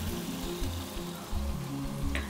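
Oil sizzling in a hot pan for a chicken stir fry, a loud continuous crackling hiss that holds steady from start to finish, with a brief bright clink near the end.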